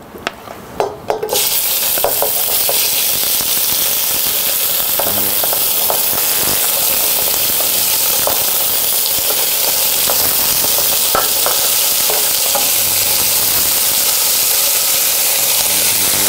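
Veal tendrons sear in a smoking-hot pan, added in small batches, a loud, continuous sizzle with crackles and spits throughout after a few initial clatters at the start.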